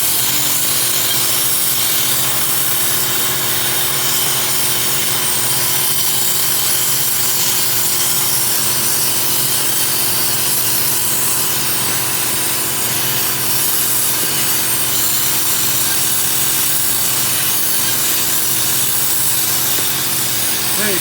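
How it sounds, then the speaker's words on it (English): A media-blasting air gun fires walnut shells at the intake valves of a 2013 Mini Cooper S, making a steady, loud, broadband hiss and rasp that runs unbroken from start to finish. "the second you press it, it's going to fill it full of walnut shells"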